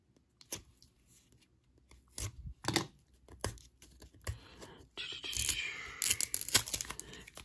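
Medical tape is being peeled and torn nearby in crackly, uneven bursts with short pauses, building to a louder, sustained ripping and crinkling near the end.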